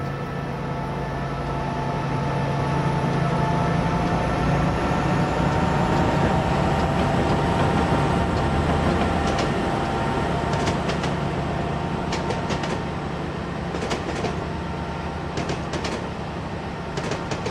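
A long freight train in Train Simulator 2015 on Cajon Pass rumbles steadily with a deep, droning engine hum, clacks and squeals from the rails rising here and there over the continuous mechanical roar.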